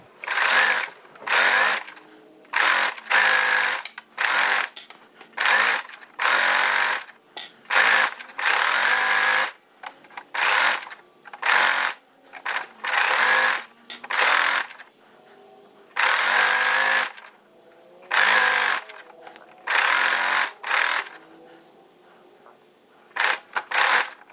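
A serger stitches sweater cuffs and waistband on a beginner dolman sweater project, running in close, loud bursts of rapid whirring separated by short pauses, with no talking.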